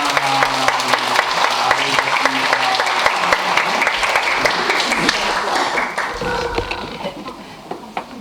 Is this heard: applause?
yes